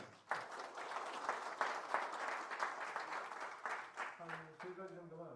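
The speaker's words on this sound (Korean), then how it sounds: "장시간 동안 좋은 강연과 답변해 주신 이정원 교수님께 큰 박수 부탁드립니다" Audience applause for a lecturer at the close of a Korean forum talk on EU ESG regulation, a steady burst of many hands clapping that fills the hall for several seconds, then thins out under a voice near the end.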